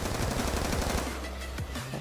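Rapid automatic gunfire from the video game Black Ops 2 rattles in a dense, continuous burst, loud and close, ending with a few separate shots.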